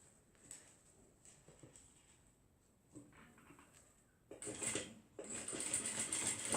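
A sewing machine stitching along a foldover bag toward the zip, quiet at first with brief whirs and clicks, then running loud and continuous through the last couple of seconds.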